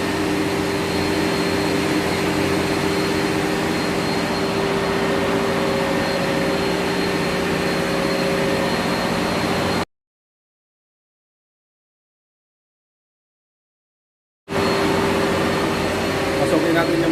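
A steady, loud mechanical drone and hum fills the engine room workshop aboard the ship M/V Helge, broken by a few seconds of total silence before resuming.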